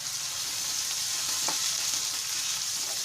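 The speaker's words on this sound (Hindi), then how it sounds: "2 मिनट के लिए भून लेंगे" A paste of garlic, ginger and green chili frying in a pan, a steady close hiss of sizzling oil that holds level throughout, with one faint tap near the middle and no talking.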